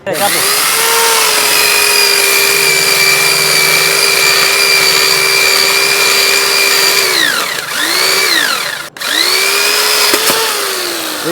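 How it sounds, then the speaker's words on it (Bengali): An electric chainsaw cuts through a six-inch tree trunk with a loud, steady motor whine that runs for about seven seconds, drops in pitch and load as the cut finishes, then starts up again in short bursts. "এখন আমি ইলেকট্রিকটা দিয়ে দেখাচ্ছি আপনাদের দেখেন সেকেন্ডের ভিতরে আমি গাছটা কাটবো"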